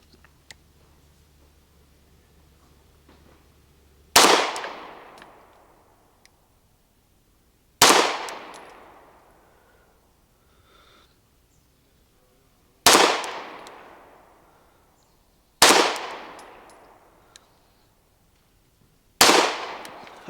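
Five loud, sharp shots from a Bul Armory EDC Pro pistol firing 115 grain FMJ rounds, spaced a few seconds apart, each with a ringing decay, on a quiet range with no talking.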